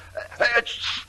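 A sneeze performed in an old radio drama, a single short burst lasting about a second, close and fairly loud, with no speech around it.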